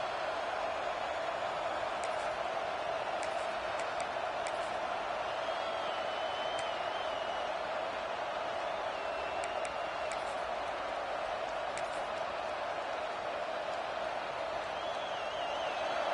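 Constant dense roar of a large stadium crowd in the video game College Football 26 during Texas vs Ohio State, steady and loud throughout, with scattered whistles and shouts rising above it.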